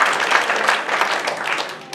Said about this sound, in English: Clap your hands if you believe what I'm saying here today.